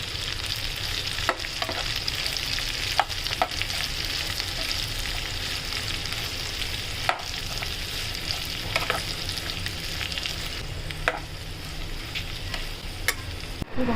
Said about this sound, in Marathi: ही भाजी आपली ना करटोलीची भाजी आता आपण तेलात परतून घेतली